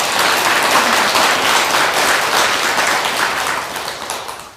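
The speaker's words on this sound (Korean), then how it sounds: "큰 박수 한번 부탁드릴게요" Loud, dense applause from a congregation inside a Buddhist temple hall during a spring-start dharma service, sustained for several seconds before tapering off near the end.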